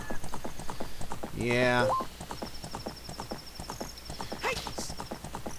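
Epona, Link's horse in The Legend of Zelda: Ocarina of Time, gallops with steady rhythmic hoofbeats and lets out one loud whinny partway through, while a voice talks briefly over the game audio.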